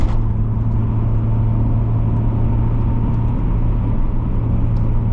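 A 1989 Mazda Miata being driven: a steady, close engine hum and road rumble holding level throughout, with no voices.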